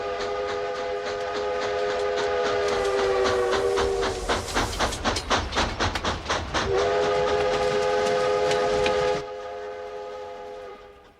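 A moving train runs with a steady rumble while a whistle sounds repeatedly, first as a long tone, then in rapid pulsing blasts, then a long tone again, before it cuts off and the rumble fades.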